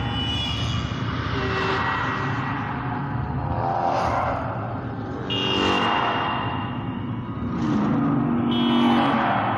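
An ice cream truck passes in a blind driving video game, its engine droning and swelling in several passes that rise and fade, with a tonal whine over a rumbling low end and no voices.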